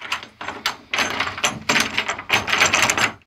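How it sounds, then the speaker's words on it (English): Door jammed shut with super glue being pulled repeatedly, giving a series of rough rattling, straining thuds in four or five bursts over a few seconds. "Getting a door open that's jammed with super glue is not easy."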